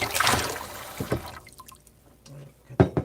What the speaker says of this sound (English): I just like to rinse the bowl out.